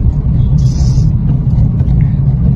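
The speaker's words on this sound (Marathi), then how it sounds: "आवाज जास्त आला गाडीमध्ये म्हणून वाजते गाडी" Inside a moving car, a loud low engine and road rumble drones steadily, with a light rattle and a brief high hiss early on.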